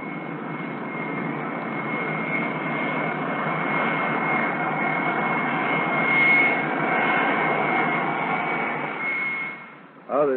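A US Navy F9F Panther jet engine roars loud and steady for several seconds on the deck of the carrier USS Randolph during catapult launch, swelling slightly before cutting off abruptly near the end.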